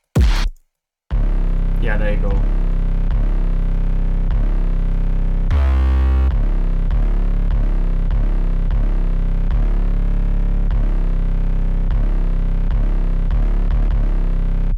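An 808 bass pattern for trap metal breaks plays as a loud, steady looping rhythm of deep booming hits, briefly interrupted early by a gap and a short spoken comment.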